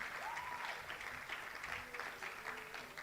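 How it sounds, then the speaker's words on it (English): An audience at an entrepreneurship festival pitching event applauds steadily, a soft, even wash of many hands clapping at a distance, with faint tonal sounds in the room behind it. "please help me with a clap offering"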